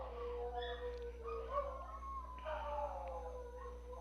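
Dogs howling in the background, a steady, wavering chorus of long tones lasting throughout, moderately faint beneath a constant low electrical hum.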